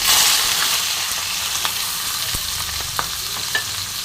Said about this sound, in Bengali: এবার সবজিগুলো খুব ভালো করে ভেজে নেবো।